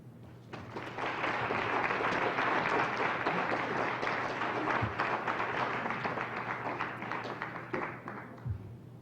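An indoor audience at a community wealth-building talk bursts into sustained applause lasting several seconds, a dense, even patter of many hands that tapers off toward the end, fairly soft overall with no voices over it.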